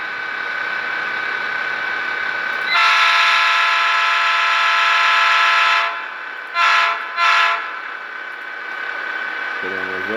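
An Athearn Genesis HO model of a Southern Pacific EMD SDP45 locomotive runs with a low electronic engine hum, then sounds a loud sustained horn for about three seconds followed by two short blasts.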